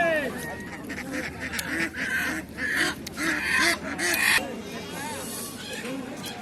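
Ducks quack and call at a crowded rural poultry market, the traditional Matazi haat in Naogaon, with continuous cackling and honking under steady crowd chatter and bargaining voices.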